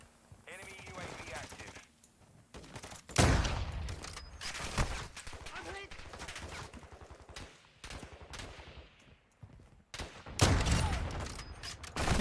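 Repeated bursts of gunfire in the video game Call of Duty, close and loud, come in several dense volleys with short pauses between them, while a voice talks over parts of the exchange.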